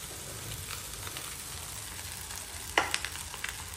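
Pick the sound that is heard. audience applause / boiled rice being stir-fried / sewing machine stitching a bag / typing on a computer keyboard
boiled rice being stir-fried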